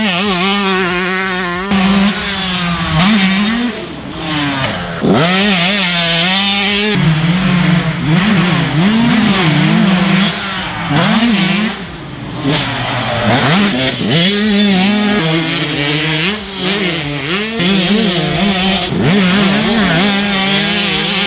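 Yamaha YZ125 and GasGas MC125 two-stroke dirt bikes ridden hard, engines buzzing and revving up and down repeatedly with sharp throttle changes, loud and close throughout with no talk.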